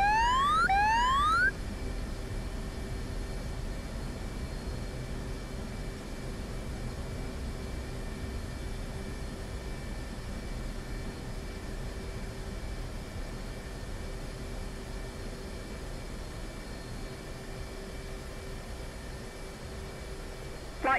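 A military aircraft in the DCS combat flight simulator approaches a runway to land, its engine a steady, even drone that holds unchanged throughout, with a short rising electronic chirp right at the start.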